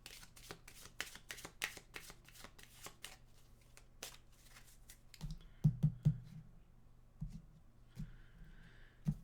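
Animal oracle cards being shuffled by hand, a dense run of crisp riffling flutters for several seconds, then slower separate slaps and taps of cards settling, close and fairly quiet with no talking.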